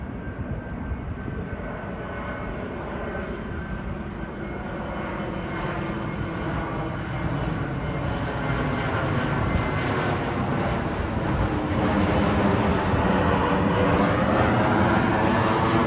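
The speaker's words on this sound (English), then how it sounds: "Here comes another plane." Airplane passing overhead above a cemetery, a steady broad engine roar that swells slowly over about sixteen seconds, heard alone without talk.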